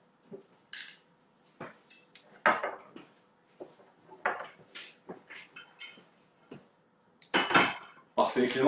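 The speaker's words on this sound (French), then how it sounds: "Clémence, elle commence à faire la vaisselle." Dishes, pots and cutlery clatter and clink irregularly in a kitchen sink, close and sharp, with quiet gaps between the knocks and scrapes.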